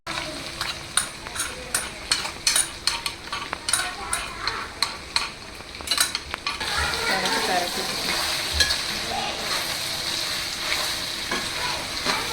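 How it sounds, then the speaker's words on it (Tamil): Dried red chillies crackle and sizzle in hot oil with sautéed garlic for a tempering, with a spoon scraping and stirring in quick taps at first, then a steady, close frying hiss. "பூண்டு வதங்கிடுச்சு. இப்போ வந்து வரமிளகாய் போட்டுக்கலாம்."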